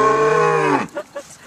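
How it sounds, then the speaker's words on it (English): A cow gives one long, loud, close moo that lasts most of a second on what sounds like a Tennessee farm, followed by a couple of faint, brief quieter sounds. "Cows and cows."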